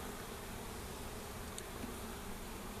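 Honeybees in an opened, swarmed hive being inspected in February hum as a steady, dense, close drone that holds even throughout, with no talking.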